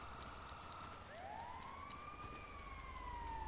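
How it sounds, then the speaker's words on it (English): Ambulance siren in the video game Grand Theft Auto V, a faint wailing tone that rises and falls, heard at a distance over steady traffic rumble. "the ambulance is here"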